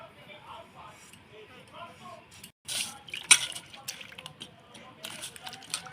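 Salted water is poured over thinly sliced potatoes in a home kitchen. A voice talks at first, then a sudden splashing pour comes up close and runs on with uneven trickling.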